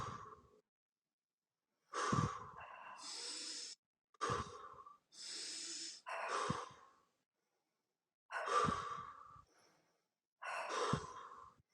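Deep breathing exercise: a series of long, slow breaths, with about five drawn-out inhales and exhales separated by silent pauses, close and clear, some exhales sighing through the mouth.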